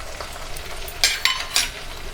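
Cumin powder sizzling in hot oil for a Bengali Bombay duck (lote fish) jhal curry: a soft, continuous frying hiss broken by three sharper crackling spurts close by.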